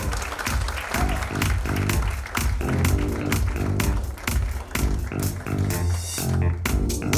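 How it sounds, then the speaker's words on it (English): Audience applause for lead actor Madhur Mittal at a film trailer launch, clapping that rises and continues under loud music playing throughout. "big round of applause for him"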